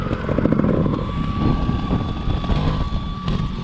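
A trials motorcycle engine revs steadily at moderate loudness, the note rising and falling slightly as the throttle is rolled on, with no talk over it.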